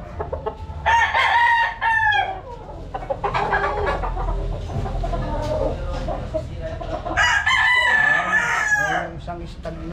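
Gamefowl stag crowing close by, a couple of loud crows separated by clucking and other farmyard fowl sounds.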